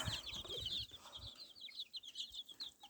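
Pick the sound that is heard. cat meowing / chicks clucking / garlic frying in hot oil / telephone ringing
chicks clucking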